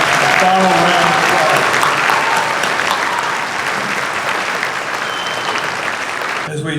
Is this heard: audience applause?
yes